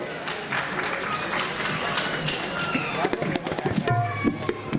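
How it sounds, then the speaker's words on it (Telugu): A crowd claps in a dense, sustained wash of applause at a cultural music festival in Kurnool, with a few sharper pops and shouts rising near the end. "ఒకసారి గట్టిగా చప్పట్లు"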